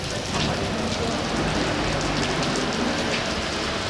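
Steady, dense monsoon rain pours down continuously, a loud broadband hiss of drops striking surfaces with no pauses throughout.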